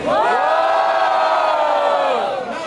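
A loud crowd at a rap battle roars and cheers in one sustained swell of voices, holding steady before tapering slightly at the end.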